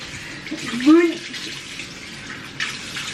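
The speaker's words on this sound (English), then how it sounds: "let's rinse out the Foreo" A Foreo facial cleansing brush is rinsed under a running tap, with a steady wash of water flowing throughout and a brief louder splash near the start as the brush meets the stream.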